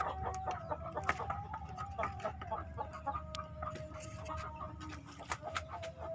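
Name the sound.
chickens clucking on a chicken farm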